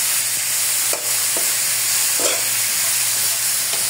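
Garlic, onion and ginger sautéing in a pan for ginataang kalabasa with string beans and crab, a steady loud sizzle with a few soft stirring scrapes, close and without talk.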